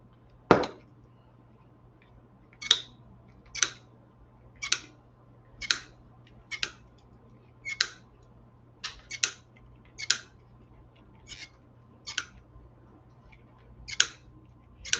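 Scissors snipping through decorative deco mesh while building a fall wreath: a louder first cut, then about a dozen crisp, evenly spaced snips, close and alone over a low steady hum.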